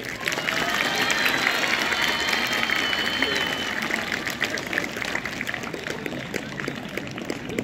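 Children in a school hall at a sports week opening ceremony clap together in a dense, sustained burst of applause that slowly thins, with voices mixed in underneath.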